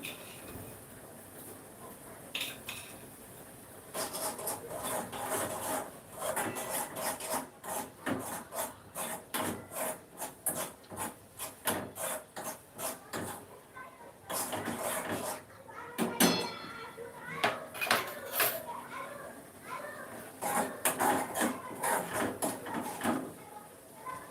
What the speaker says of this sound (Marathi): आपल्याला आता हे छान असं परतून घ्यायचं आहे